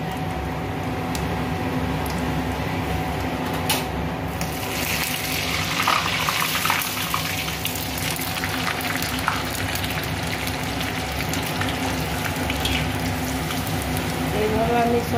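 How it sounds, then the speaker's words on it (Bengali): Cut nimki dough pieces deep-fry in oil with a continuous bubbling hiss that stays even throughout, a voice briefly heard over the frying. "আর আমি তেলে ভেজে নেব।"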